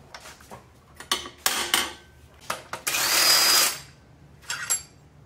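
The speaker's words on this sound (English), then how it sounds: "That one's really tight, so I'm gonna get a breaker bar." A breaker bar works loose a tight 14 mm valve cover bolt on a 2007-2013 Nissan Altima 2.5, producing a run of sharp metallic clicks and ratcheting rasps, including one sustained grinding stretch, close and loud with no talk.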